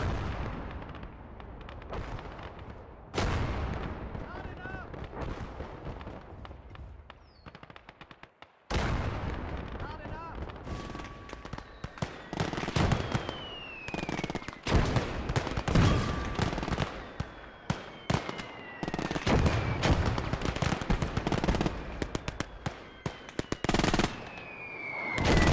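Tank, explosion and artillery combat from the video game Gates of Hell: dense bursts of gunfire, heavy booms and rolling blasts, loud and near, with brief pauses between sequences.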